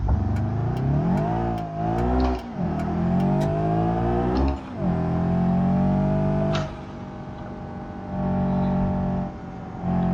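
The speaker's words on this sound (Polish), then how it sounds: "Zbiera się dobrze, ale już troszkę stary jest ten samochód," An aging car in a driving video game accelerates hard, its engine whine climbing through the gears with brief dips at each shift. The engine then settles into a steady, sustained drone.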